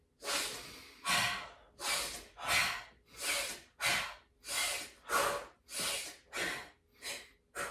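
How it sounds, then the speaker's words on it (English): Deep, slow breaths drawn in through the nose and pushed out through the mouth during a guided breathing exercise in a studio, about a dozen even, fairly loud breath strokes in a steady rhythm, with no voices. "in through the nose and out through the mouth"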